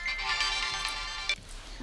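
A telephone ringtone plays as a bright electronic melody with sustained tones, close and fairly loud, cutting off abruptly near the end with a faint click.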